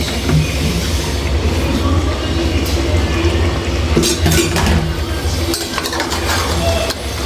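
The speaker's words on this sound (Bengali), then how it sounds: "ভালো করে লবণটা মিশিয়ে নিলাম" A spoon stirs salt through a chicken and papaya curry in a pan, scraping and churning steadily and fairly loudly against a constant background rumble, with a few sharper clinks of metal on the pan.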